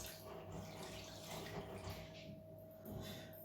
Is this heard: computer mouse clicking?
no